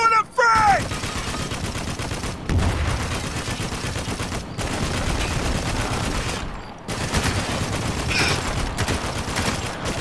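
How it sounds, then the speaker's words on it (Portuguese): Heavy gunfire from Spec Ops: The Line, a dense, continuous barrage of rapid shots and bursts that stays loud for nearly the whole stretch, briefly dropping out a couple of times before resuming. "Taking some heavy fire here."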